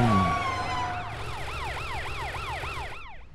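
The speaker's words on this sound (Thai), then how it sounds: "นั่นแมทเจ้ารถตำรวจมีอะไรหรอแมท" A cartoon police car siren warbles fast, rising and falling in quick repeated sweeps, loud and close, over a low engine rumble, fading slightly at the end.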